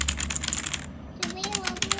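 Rapid clacky keystrokes on a Leaven K550 87-key mechanical keyboard, close and crisp, with a short pause midway before the typing resumes.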